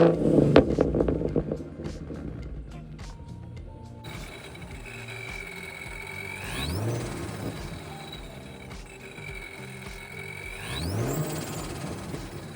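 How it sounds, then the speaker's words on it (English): A 2014 Ford Mustang with a 3.7 V6, ProCharger and Roush axle-back exhaust revs twice, each rev rising and falling over a steady nearby idle, with a supercharger-like whine climbing alongside each one. "I think it sounds great, and I'll give you guys a couple revs here so you can hear that"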